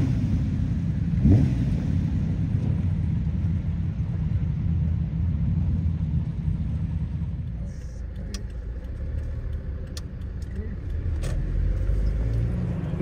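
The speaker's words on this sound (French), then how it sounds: "Jean-Claude et Hervé reprennent la route avec leur Marque II pour cette seconde partie de journée." A classic Jaguar Mark II drives on the road during the Tour Auto rally from Dijon to Mulhouse, its engine giving a steady low rumble from inside the car, with a few clicks and ticks near the end.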